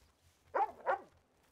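A dog barks twice in quick succession in the Western roleplay game RedM, two short, moderately loud barks close together, with a quiet background before and after.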